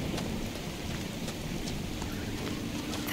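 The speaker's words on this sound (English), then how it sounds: "Another rainy land filled with the undead" Steady rain pours across the rainy, undead-haunted land of Crestwood in the game Dragon Age: Inquisition, a dense continuous hiss with faint thunder rumbling low beneath it.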